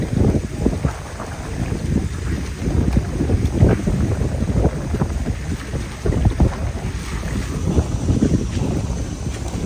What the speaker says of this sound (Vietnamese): Đò lớn đã đây nè